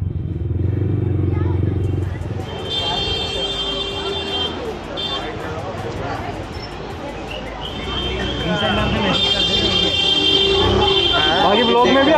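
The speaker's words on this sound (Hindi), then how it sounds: "बस इशारे पे चल रही बाइक।" A motorcycle riding through a busy market, its steady engine drone mixed with traffic clatter and repeated horn toots, with voices around it throughout.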